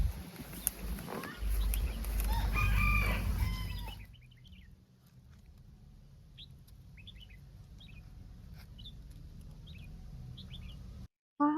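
Chickens and roosters cluck and call loudly at first, with some chirping, then the sound drops to quieter, scattered calls from the flock over a low background.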